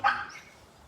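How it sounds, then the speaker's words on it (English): A dog that has just hurt her foot lets out one sharp, high yelp, close and sudden, then quickly fades into quiet room noise. "I think my dog just hurt her foot."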